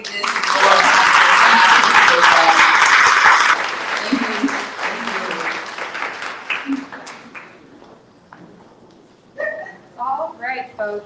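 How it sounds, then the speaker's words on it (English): Loud, full applause from an audience at a Busboys and Poets event featuring an activist rings out for a few seconds, then tapers into scattered claps and quiet before voices begin talking. "Let's put a round of applause together."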